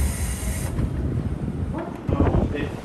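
A JR Kyushu train running between Kokura and Moji, heard from inside as a steady low rumble of wheels and car with some wind noise and a few brief higher clatters.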